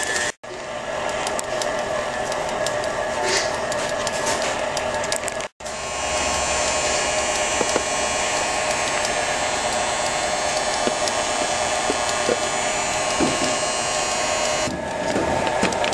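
An electric mixer whirs steadily as it beats red velvet cake frosting with powdered sugar, a loud continuous motor drone with one brief dropout near the middle.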